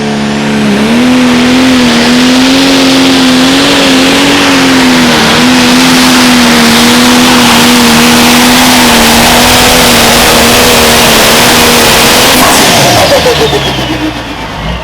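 A 3,001-horsepower pro stock pulling tractor at a Green County Fall Nationals pull in Monroe, Wisconsin roars at full throttle, a loud, sustained deep engine howl that holds steady before tapering off near the end.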